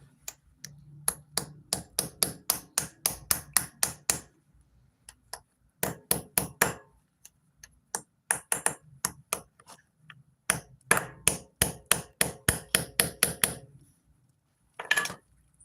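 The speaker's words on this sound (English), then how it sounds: "Get yourself your little hammer." A small hammer taps pins into a motorized bicycle's China clutch shaft in sharp metallic bursts of rapid strikes, separated by short pauses, close and clear.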